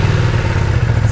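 A Ducati Streetfighter V2 motorcycle engine, a V-twin, runs with a loud, close, throbbing low rumble that holds steady for a brief moment, with no talking over it.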